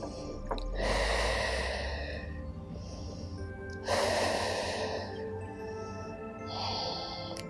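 Deep breaths out during an open-air yoga session, three broad airy exhales rising and fading at a steady pace, close and fairly clear over a quiet outdoor background.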